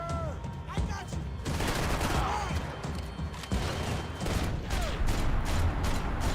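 Gunfire in the video game Max Payne 3, a firefight over Hoboken: rapid bursts and single sharp shots crackle throughout, loud and dense, with voices shouting among them.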